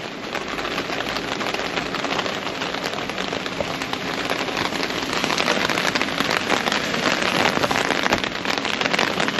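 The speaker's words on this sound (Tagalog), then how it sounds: "Sobrang lakas ng ulan eh." Heavy rain pours down steadily and loudly, a dense continuous hiss and patter on surfaces with no voices.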